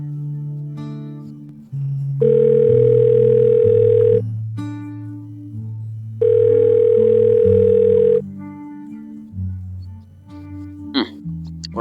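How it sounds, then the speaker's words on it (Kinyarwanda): A telephone call rings out on the line in two long, loud tone bursts separated by a gap, heard over soft background music. "yafashe telefone arahamagara"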